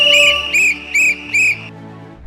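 A shrill whistle is blown four times in quick succession, loud and close, each blast short and piercing with the last one trailing off.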